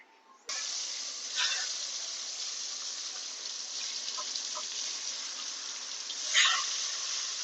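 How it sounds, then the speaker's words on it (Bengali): Pointed gourd (potol) slices frying in hot oil for a Bengali mutton curry: an abrupt start gives way to a steady, close hiss, broken by a few sharper spits and crackles. "পটল ভেজে নিচ্ছি।"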